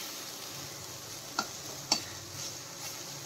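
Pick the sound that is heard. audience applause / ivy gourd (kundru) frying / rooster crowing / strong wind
ivy gourd (kundru) frying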